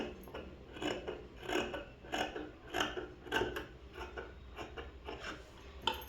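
Scissors cut through shirt cloth for a boys' school uniform, with repeated rhythmic snipping and rasping strokes close by and no talking.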